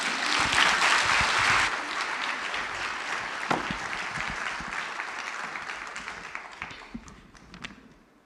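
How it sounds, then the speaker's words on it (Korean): A church congregation applauds in welcome at a worship service, loud sustained clapping that peaks early and gradually thins and fades out. "우리 나오실 때 큰 환영의 박수 부탁드릴게요."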